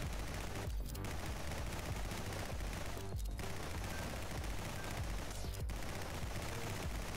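Rapid gunfire from a horde-survival shooter game, NIMRODS, forms a dense, continuous barrage of shots, loud and steady throughout, with a few brief sharper bursts standing out from the clatter.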